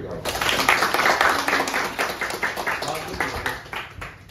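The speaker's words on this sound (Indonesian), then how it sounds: "Tepuk tangan loh" Scattered clapping in an indoor room, many sharp hand claps at an irregular pace, loud at first and thinning out toward the end.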